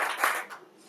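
Two quick hand claps, the first sharp and the second softer, sound close by in a quiet room with no voices.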